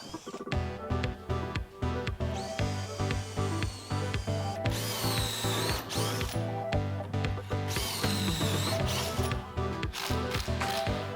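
Power drill driving screws into a wooden gym bench that hides weights, with repeated short whirring bursts and a longer run, over steady background music.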